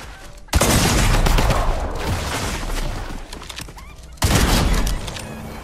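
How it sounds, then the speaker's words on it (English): Rapid gunfire bursts in the Fortnite video game, two loud clusters of repeated shots, the first sustained and the second shorter, with game sounds in between. "I missed my shots."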